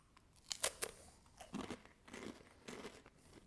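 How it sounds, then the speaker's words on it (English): Close, quiet crunching as a Ritz cheese wafer roll is bitten and chewed: two sharp snaps early, then several softer, grainy crunches spaced out over a few seconds. "That's a nice and crunchy wafer."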